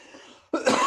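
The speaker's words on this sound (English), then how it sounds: "Start everybody with a nice, healthy cough." One loud, close cough bursts out after a brief stretch of faint background murmur.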